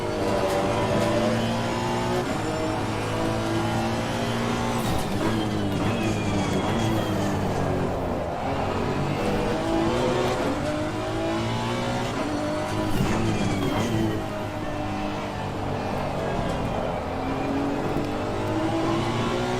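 Race car engines in a sim racing game at the Hungaroring endurance cup, loud continuous engine drone with rising and falling revs through gear changes, tire squeal, and another car passing close by.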